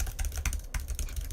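Mechanical computer keyboard right beside the microphone, a quick irregular run of loud close key clicks and clacks with no talk.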